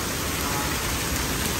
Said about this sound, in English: Singapore weather, heavy rain.